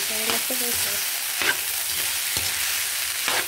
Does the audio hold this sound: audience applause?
no